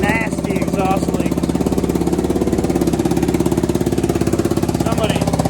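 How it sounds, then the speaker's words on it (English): A Kawasaki Brute Force 750 ATV engine with an exhaust leak idles close by in a loud, rapid, even putter that holds steady throughout, with a voice heard over it. "That nasty, nasty exhaust leak."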